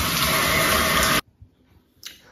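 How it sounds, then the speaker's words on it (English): Water pours in a steady, close, splashing stream onto a Groove Onn LED Bluetooth speaker indoors, then stops suddenly, leaving faint drips and a brief splash afterward. "pour the water."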